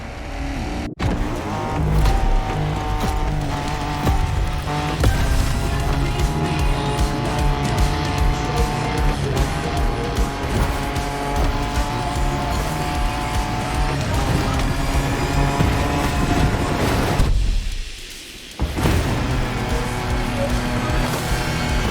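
Off-road racing cars tear across open terrain in The Crew Motorfest, with a loud, continuous engine roar and occasional tire squeal. The sound briefly dips and cuts out near the end before resuming.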